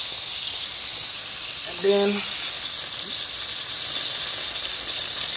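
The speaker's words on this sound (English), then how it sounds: "So right now I'm gonna make a roux and start off with probably about 3 tablespoons of butter." About three tablespoons of butter melt in a pan for a roux, giving a steady, bright hiss and sizzle that stays even throughout, with a single short spoken word near the start.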